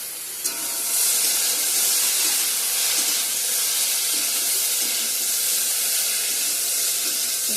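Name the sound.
taro (kochu) frying in oil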